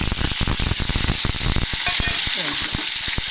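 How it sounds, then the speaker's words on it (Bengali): Prawns tipped into hot oil with dried red chillies and whole spices, sizzling loudly and steadily while a utensil scrapes and clatters through the pan in quick, irregular strokes. "চিংড়ি মাছটা আমি ঢেলে দেওয়া হলো,"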